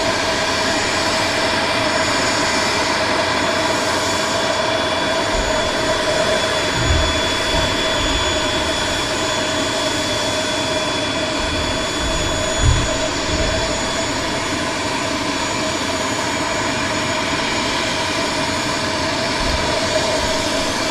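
A Eurofighter Typhoon jet departing Southend Airport, its engines a loud, sustained roar that holds steady and close throughout, with no speech.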